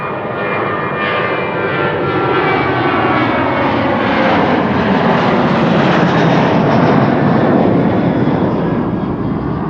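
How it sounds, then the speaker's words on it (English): A Transavia Boeing 737 jet takes off at Amsterdam Schiphol, producing a loud, continuous engine roar with a rising whine throughout and no voices. "Transavia 737."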